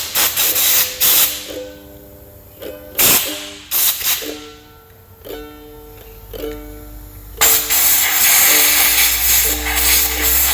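Compressed air blasts out a head bolt hole on an engine block during a Cummins 5.9 12-valve swap into a 6.4 Ford Powerstroke. Several short, loud hissing bursts come in quick succession, then one longer sustained blast.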